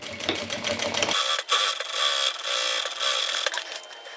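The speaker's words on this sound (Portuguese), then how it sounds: "E agora eu vou passar mais uma costura aqui." A sewing machine runs a seam along a transparent pouch, giving a loud, steady mechanical whir that dips for a moment early on and then carries on close by without any talking.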